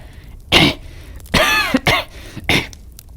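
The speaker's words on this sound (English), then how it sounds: "How long have you had that cough?" Three separate harsh coughs, close and loud, with short silent pauses between them; the middle one is a longer, rattling double cough.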